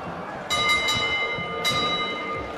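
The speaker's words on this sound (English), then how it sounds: "There goes the bell for the end of round one." A boxing bell rings out to end the first round, two or three quick clangs with a lingering metallic ring, heard under crowd noise and commentary.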